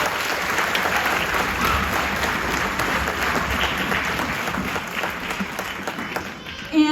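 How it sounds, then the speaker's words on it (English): An audience claps steadily at a 4th grade strings concert, a broad wash of applause that fades toward the end as a voice begins to speak. "So let's give them a round of applause."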